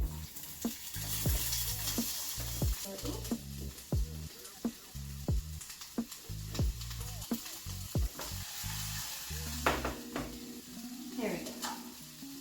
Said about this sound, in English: now I am heating up some oil so that I can put the onions and peppers